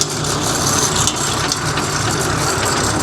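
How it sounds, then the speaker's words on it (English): Small square baler driven off a tractor's power takeoff, baling straw: a steady, loud engine drone with a mechanical rattle running evenly throughout, no talk over it. "I'll turn the power takeoff on."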